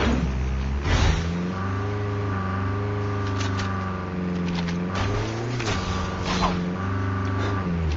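A car engine in a video game revs and drones steadily, its pitch rising and falling in several surges, loud and continuous with no talk over it.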